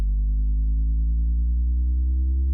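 A synth build-up whose low end is pitch-shifted upward holds a steady, continuous low drone that creeps slowly higher in pitch, with no voices.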